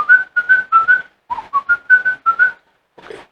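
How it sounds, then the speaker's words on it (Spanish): A person whistles a short run of quick, choppy notes in close succession, clear and close, then pauses and adds a faint final breathy note. "Chiflar, sí, así."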